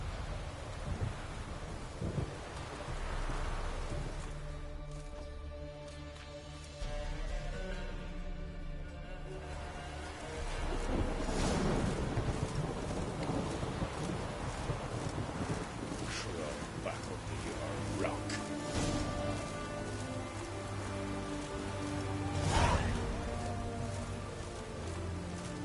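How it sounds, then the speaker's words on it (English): A thunderstorm in The Witcher 3 on PS4, with rain and wind making a steady broad roar and low thunder rumbles swelling through it, while game voices talk intermittently underneath. "Storm, damn it."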